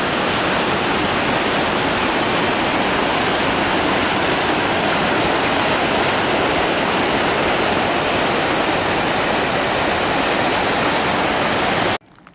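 The South Fork of the San Joaquin River rushes loudly beneath a bridge, a constant, broadband roar of whitewater filling the scene before cutting off abruptly at the end.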